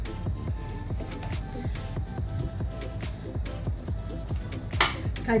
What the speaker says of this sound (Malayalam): തവി വെച്ചോ, ഏതെങ്കിലും തവി വെച്ചോ, അതല്ലെങ്കിൽ പൊട്ടറ്റോ മാഷ് ഉണ്ടെങ്കിൽ അത് വെച്ചോ ഇങ്ങനെ അങ്ങ് ഉടച്ചു കൊടുക്കാം